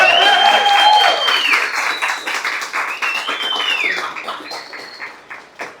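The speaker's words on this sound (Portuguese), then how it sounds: "Pessoal, eu queria que todos aplaudissem nossa equipe de zagueiros." Audience applauding a team at a Brazilian company event, dense clapping from a crowd that starts strong, then thins and tapers off, with faint tonal sounds drifting over it.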